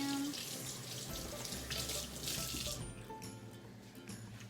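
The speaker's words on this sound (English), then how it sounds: "Alright, I gotta wash my hands." Tap water runs steadily into a kitchen sink for hand washing while a cook makes stew, a continuous close splashing hiss with a brief faint clink partway through.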